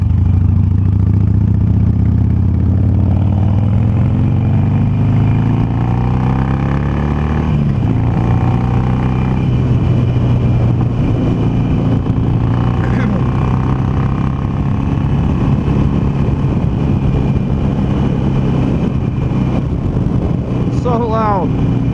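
A Harley-Davidson Sportster Roadster runs on a test ride with a loud, deep engine rumble that rises and falls through gear changes, heavy wind buffeting the microphone throughout.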